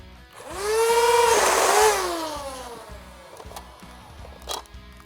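A modded double NERF Elite Hyperfire pistol rattles off 12 darts in a fast whirring burst. The motors spin up, whine loudly and then wind down, and a faint rhythmic clicking runs underneath. Nobody talks.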